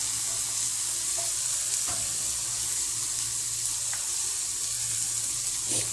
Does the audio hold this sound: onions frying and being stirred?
yes